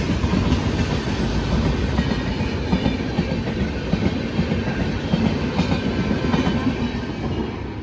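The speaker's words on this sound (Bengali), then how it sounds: "উত্তরবঙ্গ এক্সপ্রেস" The Uttarbanga Express passenger train running on rails, a loud, continuous rumble with rhythmic clickety-clack of wheels over track joints, heard close and steady throughout.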